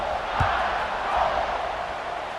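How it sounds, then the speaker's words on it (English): Stadium crowd in the NCAA 26 American football video game, a steady broad buzz of many voices after a score, fairly loud and continuous with a brief swell midway. "this crowd is buzzing after that last score"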